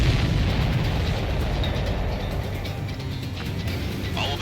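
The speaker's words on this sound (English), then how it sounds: "All of the missiles have been destroyed." Missile explosions in the video game Ace Combat 7, a loud continuous roar of booms and rumbling blasts that rolls on and slowly fades, with no talking.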